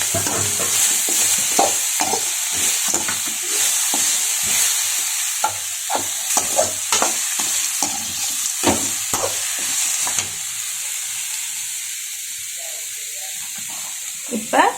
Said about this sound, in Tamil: இப்போ வந்து தேங்காய் துருவி வச்ச தேங்காய் ஆட் பண்ணிக்கிறோம்